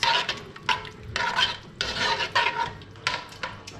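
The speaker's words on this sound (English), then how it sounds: "So I just put some of the all-purpose seasoning, mix it." All-purpose seasoning is mixed into macaroni in a pot, heard as a series of close, bursty scraping and clinking spoon strokes in an uneven rhythm, with a faint sizzle underneath.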